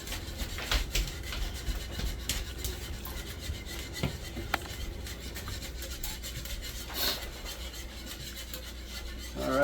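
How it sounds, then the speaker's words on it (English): A utensil scrapes and rubs repeatedly around a pan of gravy as it is stirred, a close, rasping rhythm of strokes with occasional sharper clinks against the metal. "I just keep a stirring and stirring, and you see them lumps is gone"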